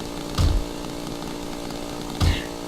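A chainsaw in the horror game Cry of Fear sounds with a steady mid-level motor drone, broken by two brief louder revving bursts about two seconds apart.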